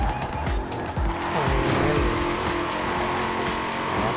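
A Chevrolet Camaro races flat out at over 300 km/h toward the finish line in Forza Horizon 4, its engine a steady loud roar with tire squeal and brief shifts running through the whole stretch.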